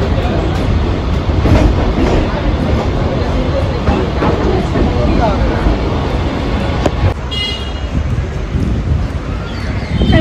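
Inside a moving Mumbai local train: loud, continuous rumble with rhythmic wheel clatter on the rails and occasional metallic squeals, while people talk over it.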